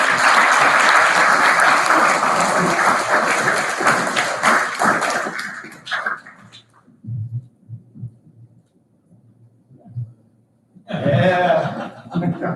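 Loud, dense audience applause at an awards ceremony, lasting about six seconds before fading into scattered laughter, thumps and murmuring, then a fresh burst of clapping near the end.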